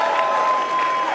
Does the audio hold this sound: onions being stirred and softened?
no